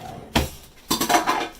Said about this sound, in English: Potato masher, old-fashioned style.